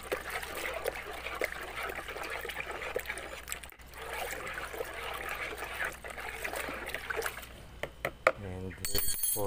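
Water being stirred in a container for a phytoplankton green water culture, steady soft sloshing and trickling throughout, close and fairly quiet, ending with brisker splashing.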